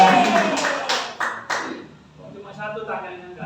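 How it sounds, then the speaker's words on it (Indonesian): A few quick bursts of hand clapping come from a school gathering, with people talking just before and after the applause. "Tepuk tangan."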